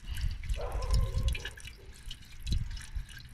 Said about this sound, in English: let's see if I can do a long pour without getting it anywhere